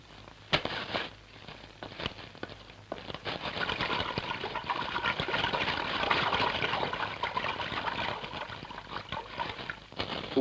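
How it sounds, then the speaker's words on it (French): Unsold wheat being dumped into the sea during the 1930s economic crisis, heard as a rough, continuous gush of rushing water on an old, noisy recording, swelling in the middle and easing off toward the end. "Le blé, qui ne trouve plus d'acheteurs, est précipité dans la mer."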